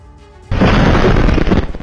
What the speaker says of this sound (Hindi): ठाणे की केमिकल फैक्ट्री में धमाके का रोंगटे खड़े कर देने वाला सीसीटीवी वीडियो सामने आया है